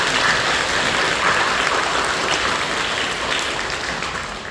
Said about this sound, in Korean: 사랑하며 격려하며 박수해 주시죠.